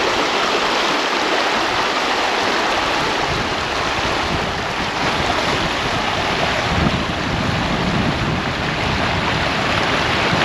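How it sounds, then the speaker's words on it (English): The Kootenay River rushes through Kootenay National Park in the Canadian Rockies, a loud, steady broadband roar of flowing water mixed with outdoor wind buffeting the microphone, continuous for the whole stretch with no voices. "That's the Kootenay River."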